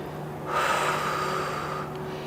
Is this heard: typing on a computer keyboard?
no